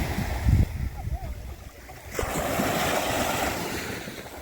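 Waves wash onto a beach on Kefalonia with a steady broad roar and wind buffeting the microphone, a few brief bumps near the start before the surf swells louder and continuous.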